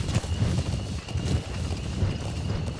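Horse hooves clip-clop in Metal Gear Solid V: The Phantom Pain, a steady rhythmic trot of soft thuds close by, alone without talk.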